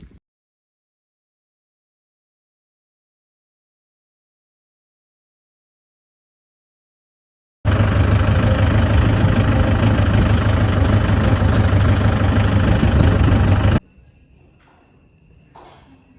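A tractor engine running in a farm field: after a long silence, a loud steady idling rumble sets in for about six seconds, then drops abruptly to a faint low background.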